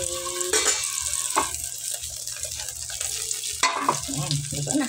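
Hotdogs and eggs fry in a pan with a continuous crackling sizzle, punctuated by bursts of louder spattering as food is stirred or moved, close and clear with a faint voice briefly in the background.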